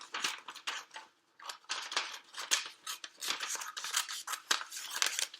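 Scissors cut out a paper tongue for a homemade mouth craft: a close, quick run of crisp snips and paper rustles, with brief gaps between strokes and no talking.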